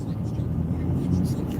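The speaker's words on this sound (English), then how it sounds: "it sounds like the power steering pump's probably going to be replaced sometime in the near future because it's whining a lot" Pontiac Aztek with a failing power steering pump, a steady low whine running under the engine and road drone from inside the moving car, with faint talk over it.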